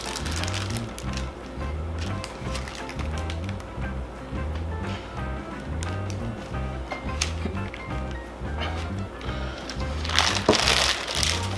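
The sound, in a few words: smashing a burger patty on the Weber kettle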